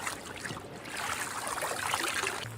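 Coker Creek flows as a steady, close wash of trickling and rushing water, even and unbroken, with no voices over it.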